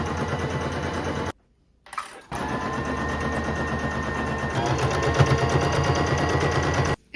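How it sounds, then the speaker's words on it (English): A sewing machine runs steadily, stitching along the top edge of a thrifted garment being reworked, with one brief pause partway through before the rapid mechanical whir resumes close and loud. "Now we're just gonna sew along this top portion here."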